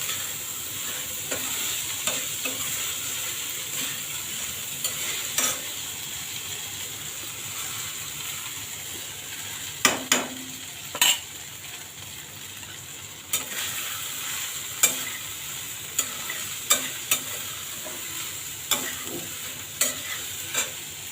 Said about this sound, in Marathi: भिजलेला ज्या कुरड्याचा चुरा आहे तो परतून घ्यायचा याच्यामध्ये